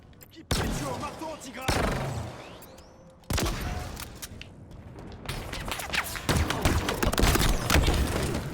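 Gunfire in Halo Infinite multiplayer, loud bursts of shots starting abruptly and repeating in clusters, growing into dense continuous fire toward the end.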